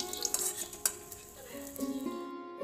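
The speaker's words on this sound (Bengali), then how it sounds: "কড়াইয়েতে সাদা তেল গরম করে নিয়েছি আর গরম করে দেখুন সব তালের লুচিগুলো ভেজে নেছি" Palm fruit luchi frying in hot white oil in a kadai, with soft bubbling sizzle, a few utensil clinks, and quiet scraping at low volume.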